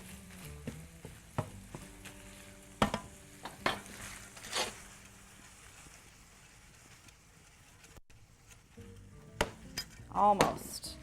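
Pieces of lamb fry quietly in a pan while a utensil stirs and scrapes them, with sharp clinks and knocks against the pan coming in bursts over a low, steady sizzle.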